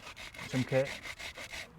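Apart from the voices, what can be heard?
pumice stone rubbing and smoothing a wooden shaft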